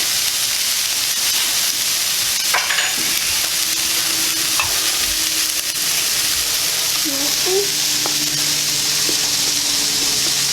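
Eggplant and shrimp tossed and stirred in a hot pan on the stove, a steady loud sizzle with scraping and clatter of the utensil against the pan; a voice speaks briefly over it.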